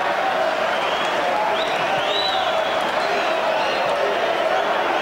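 A football crowd at a 1997/98 Charlton Athletic home match against QPR reacts to a missed shot with a broad, steady roar and scattered cheers and whistles, heard from a distance under faint commentary.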